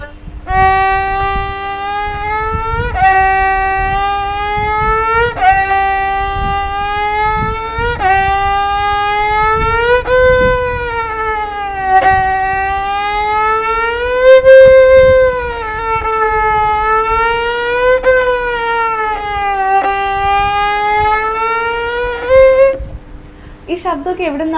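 A voice imitates a racing car: one long, loud, continuous engine-like drone that climbs in pitch in repeated steps like gear changes, held close for over twenty seconds before breaking off.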